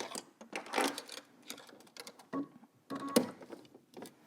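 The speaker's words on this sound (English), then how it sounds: "Let's head over to the sewing machine and stitch this down." A mechanical, rapid stitching rattle runs in bursts with short pauses between, close and moderately loud, with no voices.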